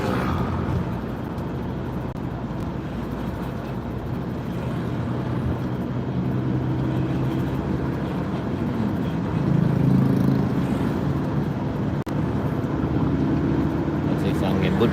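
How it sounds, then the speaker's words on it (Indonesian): Road traffic on a main road in Padang, Indonesia, early morning around 6 a.m.: a steady engine drone and road noise with a louder swell near the middle, someone talking over it. "Ini di jalan utama Kota Padang."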